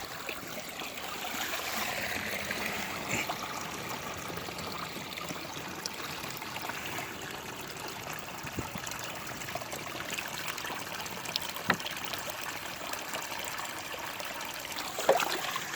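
Water trickles and rushes steadily in a shallow stream, a continuous burbling wash with a few small splashes, fairly close and fairly quiet.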